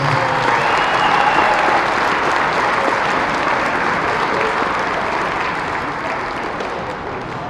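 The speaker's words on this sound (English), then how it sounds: "Ladies and gentlemen, we have a round of applause for our finalists." Sustained, dense applause from a crowd at the Southmoreland Holiday Classic wrestling tournament finals, honoring the finalists; steady and loud throughout, tapering slightly toward the end.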